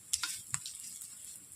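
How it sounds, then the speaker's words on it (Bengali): Fish roe fritters fry in a pan with a soft, steady sizzle, broken by a few quick bright crackles and spatters near the start, then settling into a quieter bubbling hiss. "মাছের ডিমের বড়া ভাজা।"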